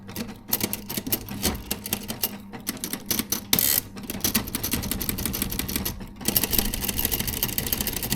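Adler Junior electric typewriter switched on and running, a dense mechanical whir and chatter with brief breaks and clunks, loud and close, no talk.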